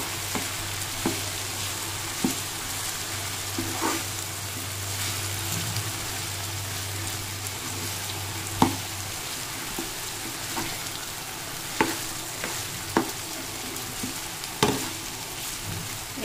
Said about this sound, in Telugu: ఇవి కొద్దిగా ఎర్రగా వేగాలి